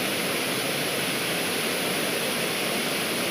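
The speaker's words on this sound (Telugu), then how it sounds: "జలపాతం అయితే చాలా బాగుంది" A waterfall at Kothapalli roars as a constant, dense rush of water that fills the scene evenly and loudly from start to finish, with no voices over it.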